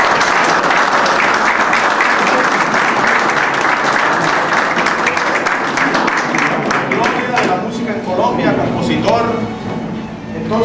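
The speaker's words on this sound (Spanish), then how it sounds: "démosle un más fuerte aplauso" Loud, dense audience applause for a musician fills the whole stretch, thinning slightly toward the end as individual claps emerge, with some voices underneath.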